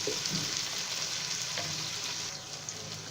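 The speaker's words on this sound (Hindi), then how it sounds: "टमाटर को फ्राई करते हुए 1 मिनट हो चुका है।" Roughly chopped medium tomatoes fry in a pan for a potato-fenugreek curry, giving a steady, close sizzle with faint stirring scrapes, with no talk.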